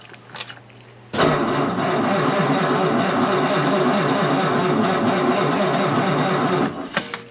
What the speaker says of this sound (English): see if it'll start, now that I probably flooded it.